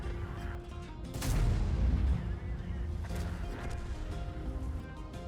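A tank cannon fires in the World of Tanks game, an E3 heavy tank dueling a Mouse: one loud, deep boom with a sharp crack and rumbling tail, followed by engine and mechanical game noise.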